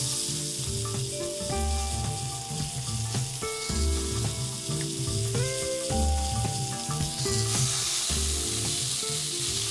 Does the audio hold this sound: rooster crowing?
no